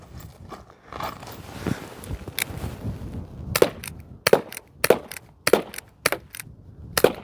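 Airsoft 6mm single action revolver firing a run of sharp, loud cracking shots at a steady, spaced rhythm, after a few seconds of quieter handling and movement noise.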